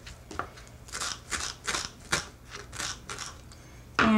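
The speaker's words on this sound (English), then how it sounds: "take a little bit of cilantro and cut it fine, like so" Fresh cilantro chopped finely with a knife on a board, a quick run of crisp, evenly spaced cuts close by with no voices over them.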